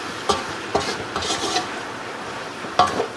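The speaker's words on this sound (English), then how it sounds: "we're just going to give this a stir" Cabbage being stirred in a pot for a smoked corned beef and cabbage meal: several scraping, rasping strokes of a utensil against the pot, close and clear with a faint sizzle between.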